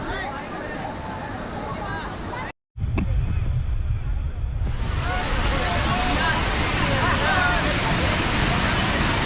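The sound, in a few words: Devkund waterfall, rushing water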